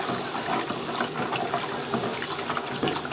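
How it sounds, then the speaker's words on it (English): Hot water and molasses swirl and slosh as raw sugar is stirred in for a rum wash, a close, continuous watery churning with a few small splashes. "we're going to just mix this in with this hot water and molasses."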